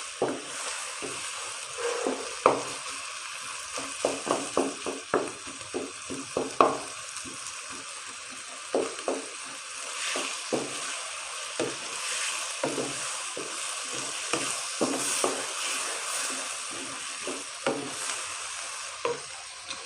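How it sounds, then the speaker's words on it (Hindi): Chonga vegetable and beef mince frying in a pan give a steady close sizzle, broken by repeated sharp clacks and scrapes of a spoon stirring against the pot, with no talking throughout. "दो 3 मिनट के लिए इसको फ्राई कर लेंगे।"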